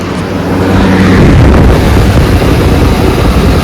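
An air cooler's water pump motor runs with a steady, loud whooshing hum and watery rush, continuous and close, with no talk over it.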